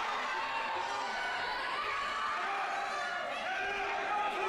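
Crowd at a live wrestling match in Georgia, a steady wash of voices and murmuring chatter with scattered shouts and cheers filling the hall at moderate loudness throughout.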